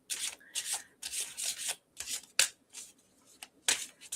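A deck of tarot cards is shuffled by hand, giving repeated short riffling bursts in an uneven rhythm, close and fairly quiet, with no talking.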